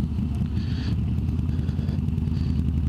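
A custom motorcycle engine runs at low speed with a rough, thick, steady low rumble and a dense rapid firing pulse, loud and close throughout with no talking.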